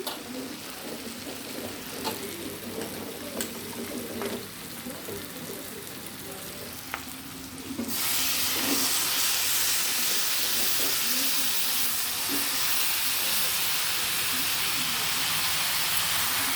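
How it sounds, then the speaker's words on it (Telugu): Drumstick vegetable pieces go into a hot pan for a milk-based curry. A quieter cooking sound gives way to a loud, steady sizzle and hiss of frying partway through, which continues close up. "ఇవి లైట్గా వేగితే చాలండి మరి మా మాడిపోయినట్టు అలా వేగక్కర్లేదు ఇప్పుడు ములక్కాడలు యాడ్ చేసేసుకుందాం"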